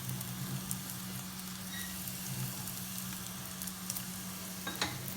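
Chopped garlic sizzling in hot oil for a matar paneer, a steady close frying hiss with faint crackles and a couple of soft utensil taps; no voices.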